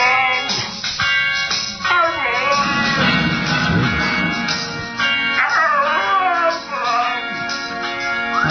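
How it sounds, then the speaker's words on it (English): A husky howls and yips along to a song, its wavering, sliding howls rising and falling over the music in long drawn-out phrases, loud and close. "That's a singing dog, man."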